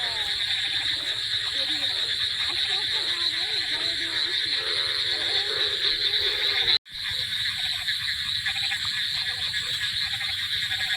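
Frogs croaking at night after heavy rain, a dense steady chorus of calls with insect-like buzzing over it, continuous and fairly loud, with brief voices and a short interruption partway through.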